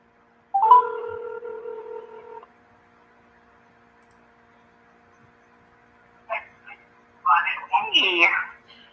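A phone call being placed: a steady tone sounds for about two seconds, quiet follows, then brief clicks, and people speak near the end.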